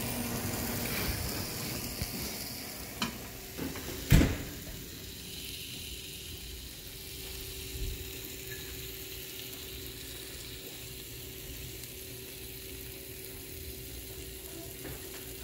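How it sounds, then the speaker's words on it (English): Steady frying sizzle of lamb loin under an oven broiler with a soft hiss throughout, plus a few clanks and a sharp metallic clatter early on; no voices. "Listen to that sizzle."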